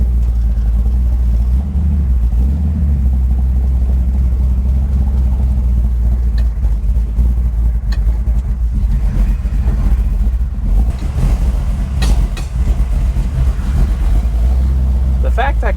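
A car engine fitted with an Edelbrock VRS 4150 carburetor runs continuously with a loud, deep rumble, heard close up with wind buffeting throughout and a few faint knocks over its steady drone.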